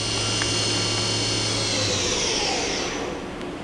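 Hyundai-WIA vertical machining center with a side-mounted tool changer running at up to 6,500 RPM, a steady close whirring hum with a high whine that rises and fades slightly near the end.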